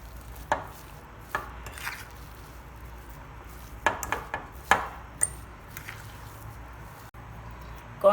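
A fork knocks and scrapes against a bowl while potato masala is mixed, producing irregular light taps and clinks spaced a second or so apart over quiet kitchen background.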